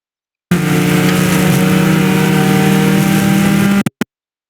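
Race car engine under throttle on the VIR North track, a loud, steady mid-pitched drone holding an even note for about three seconds before cutting off abruptly, followed by a couple of brief bursts.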